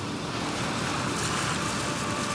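Ocean surf rolls steadily onto a beach where sea turtle hatchlings head for the water, a continuous broadband wash of breaking waves with some wind, close and fairly loud, no voices.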